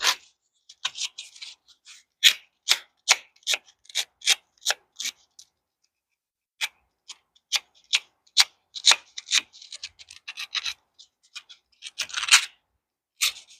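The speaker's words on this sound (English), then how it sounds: "sand the center electrode out and then flip it around to sand down this ground electrode" Sandpaper rubs the center and ground electrodes of a spark plug from a 54-inch 24 HP Cub Cadet mower in a quick series of short, close scratching strokes with brief pauses and no voices.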